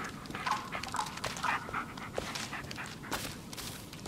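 A dog in the Blair Witch video game pants rapidly and close up, mixed with soft whimpers and snuffling, with no talking over it.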